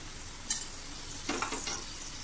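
Whole spices, bay leaves, cinnamon, cloves and cardamom, sautéing in a pan for Punjabi chole, a soft steady sizzle with a couple of brief stirring scrapes.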